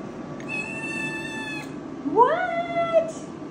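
A 12-week-old Maine Coon kitten lets out loud, close meows, a long sustained cry followed by a rising, drawn-out second call, heard alone with no talking.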